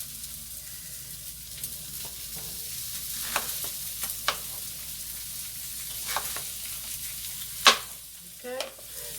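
Sliced onion going into a hot frying pan with oil, a steady soft sizzle under a few stirring scrapes and clinks, close by and fairly quiet, with no talking.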